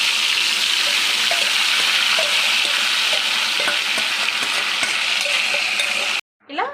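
Marinated chicken with curry leaves sizzles loudly in a hot pan, a dense, even frying hiss with small crackles and stirring knocks, cut off abruptly near the end.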